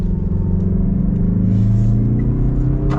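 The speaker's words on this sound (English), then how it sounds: "But let's get our acceleration here." A 2023 Mazda CX-30 Turbo accelerating, heard from inside the cabin as a steady, loud low engine rumble that builds slowly, with no talking.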